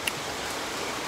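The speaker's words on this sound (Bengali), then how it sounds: "টানা বৃষ্টি পড়ছে" Steady, continuous rain falls during a rainy Eid in flood-hit Sylhet, an even, soft wash of hiss with no gaps or voices.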